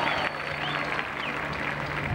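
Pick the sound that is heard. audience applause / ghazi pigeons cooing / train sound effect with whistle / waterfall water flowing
audience applause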